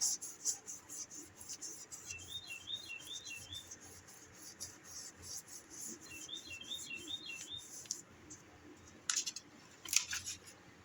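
Soft, steady rubbing of a burnishing tool over a polymer clay pendant base, a quiet close scraping texture with faint higher chirps near the start and a few sharper clicks toward the end.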